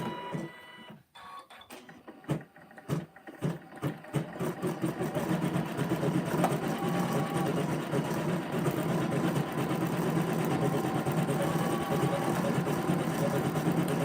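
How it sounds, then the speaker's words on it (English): An embroidery sewing machine stitches a design into a basket bottom, starting with a few sharp mechanical clicks before settling into a steady, continuous whirring hum that runs loud and unbroken to the end. "I'm only gonna sew for a little bit."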